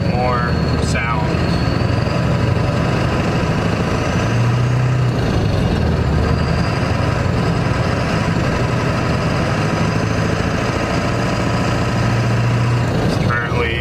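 A Ford F-350 pickup's 7.3 engine with ZF6 gearbox runs steadily and rises and falls as it moves through gears, with a constant low rumble and road noise close by, on a cold, slick day.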